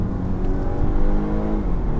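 A Volvo V60 B6 accelerates hard, its engine revving in a steady, close, loud drone with rising harmonics that climb smoothly through the two seconds, no voices over it.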